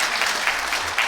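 A seminar audience applauds after a talk on fire, sage grouse and federal lands, a short burst of many hands clapping in a dense, even spatter at moderate distance.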